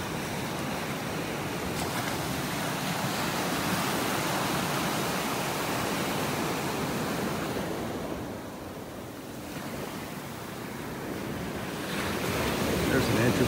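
Small ocean waves wash onto a beach in North Naples, Florida, a steady broadband surf rush throughout with a brief dip around the middle before building again, no voices.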